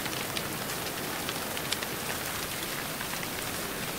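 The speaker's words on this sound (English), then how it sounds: "Actually, I'm just here because it's raining outside." Steady rain falls outside in the video game Everlight, a dense, even hiss of drops with faint scattered patters, constant and close throughout with no voices.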